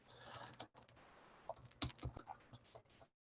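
Computer keyboard typing during live coding in the Elm language: a quick, uneven run of close, crisp key clicks with short pauses, alone and without talk.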